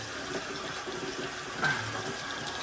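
A tap runs steadily, water filling a container with a constant gushing hiss.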